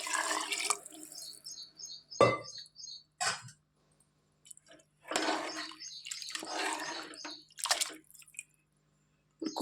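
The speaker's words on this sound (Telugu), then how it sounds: "ఇప్పుడు వాటర్ పోసుకోవాలి." Water poured into a pressure cooker over rice that has been frying for egg biryani, arriving in uneven splashing bursts with pauses between, while birds chirp faintly in the background.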